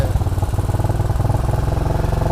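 A motorcycle engine chugs loudly up close with a fast, pulsing rhythm, its revs climbing steadily.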